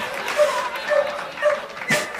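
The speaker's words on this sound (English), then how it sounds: "Sounds like happy barking" A dog gives a run of short, happy-sounding yips and barks in an even rhythm, about four in a row, fairly close by with no talking over them.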